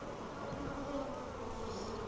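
Honeybees in a small mating nuc box buzz in a steady, faint, close hum, with no talking.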